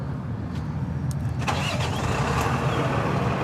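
A Freightliner M2 106 truck engine cranks and catches, settling into a steady diesel rumble close by, with a few short clicks and clunks over the low idle.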